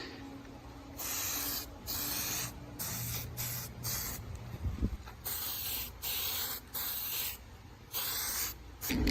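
Aerosol paint hisses onto a Traxxas X-Maxx RC car body in a series of short, steady bursts with brief pauses between them, close up, with no talking.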